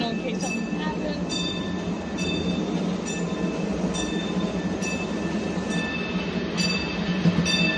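Model train running on the Largo Central Railroad layout at its winter meet, CSX 200 pulling a short consist; a steady rumbling roll with repeated wheel clicks, close and continuous, with faint voices in the background.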